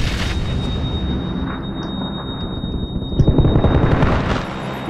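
Rapid, dense gunfire in the battle royale video game PlayerUnknown's Battlegrounds, a loud continuous barrage of shots and booms that swells near the end.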